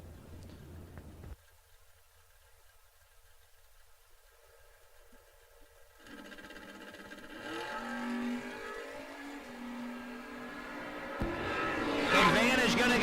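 Chevrolet Nova drag cars at a no-box drag racing event rumble at idle, then build into a loud rising engine roar as they launch and pull away, with crowd noise and a voice over a loudspeaker.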